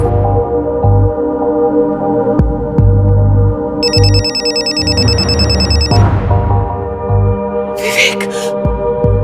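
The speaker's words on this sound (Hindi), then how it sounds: "सर कंचन जी के फोन पे विवेक का नंबर फ्लैश हो रहा है।" A phone ringtone chimes in repeated electronic bursts over a steady hum, with a voice speaking along with it.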